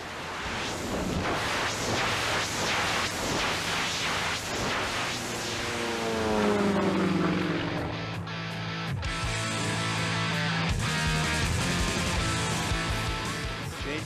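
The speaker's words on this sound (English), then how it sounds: "the tumbling, where the airplane is actually going to flip end over end" A propeller airplane flying Russian tumble aerobatics at a military air show, its loud roaring engine sweeping through a descending Doppler pitch shift as it passes, followed by sustained engine drone and crowd-like background noise.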